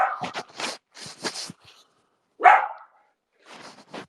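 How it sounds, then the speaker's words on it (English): A dog barks indoors in short, sharp bursts: a quick cluster of barks, one louder yelping bark after a pause, then a few more barks. Fairly close, with no talking. "I'm gonna give this dog some damn chocolate or something if she don't shut the hell up"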